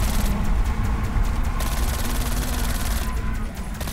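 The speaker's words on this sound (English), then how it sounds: "Yeah, I'm shooting at him." Dense, continuous gunfire in the video game Call of Duty: Black Ops Cold War, loud and sustained throughout with rapid overlapping shots and no clear pauses.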